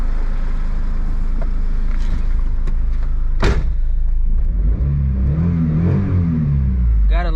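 A Mitsubishi Bravo minicab van's engine drones and revs steadily while driving, loud and close, with a few sharp knocks and a rising whine near the end.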